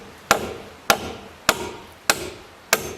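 Five evenly spaced hammer blows drive nails through wooden deck blocking into a beam on an A-frame cabin deck, each a sharp, loud strike with a short ringing decay, roughly once every half second.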